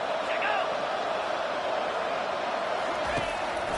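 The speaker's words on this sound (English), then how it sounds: "This crowd is trying to inspire this defense to make a big red zone stop." Steady roaring stadium crowd in the NCAA 25 college football video game, a constant dense wash of cheering noise with no letup, with a commentator's voice partly over it.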